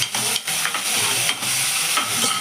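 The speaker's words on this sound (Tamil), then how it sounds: "கருவேப்பிலை ஃபஸ்ட்டு இதை போட்டு நல்லா வதக்கிக்கோங்க." Onions, green chillies and curry leaves sauté in oil for egg pepper rice, a dense, hissing sizzle broken by quick scrapes and stirring strokes of a spoon against the pan.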